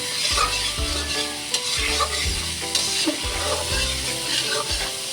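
Pinakbet vegetables stirred in a sizzling pan, a steady frying hiss broken by several scraping strokes of a utensil, close and fairly loud, with no talking.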